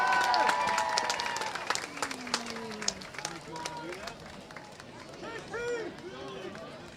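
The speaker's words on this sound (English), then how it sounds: "a big round of applause for your Sunset High School varsity cheerleaders" Crowd applause for high school varsity cheerleaders at a Sunset High School football game, a steady wash of clapping with scattered whistles and cheers, under announcer talk over the stadium speakers.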